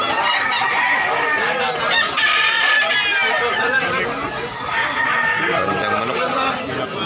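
Roosters crow continuously, several birds overlapping with clucking and fowl chatter at a busy gamecock market in Tabunok, Cebu, loud and close, with people talking underneath.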